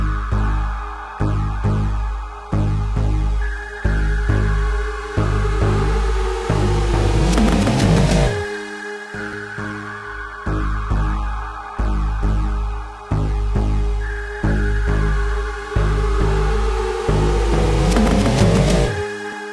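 A looping electronic track with a repeating rhythmic pattern and sweeping synth pad tones, the low end filtered out so it sounds thin in the bass, steady and moderately loud with no talking.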